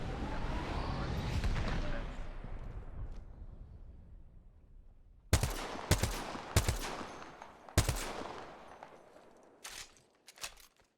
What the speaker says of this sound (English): Nine shots fired and they're hitting me.